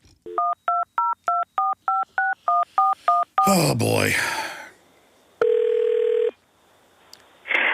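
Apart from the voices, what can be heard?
telephone being dialed, DTMF tones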